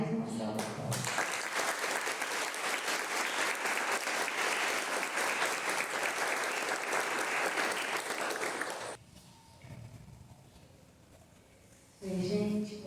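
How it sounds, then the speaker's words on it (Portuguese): A worship gathering at an Umbanda terreiro breaks into a long, loud round of applause from the congregation, steady clapping for about nine seconds before fading and giving way to voices. "Eu vou pedir mais uma salva de palmas."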